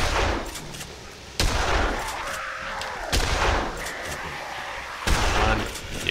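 Shotgun blasts in the zombie game Dead Island, three loud sharp shots spaced a couple of seconds apart, each followed by a short decaying tail over steady game background noise.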